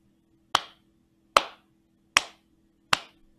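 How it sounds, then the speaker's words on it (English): Four crisp hand claps land at an even, steady pulse, each a sharp close slap with a short room tail, set against a quiet background hum with no talking. "So first I'm going to clap this purple rhythm."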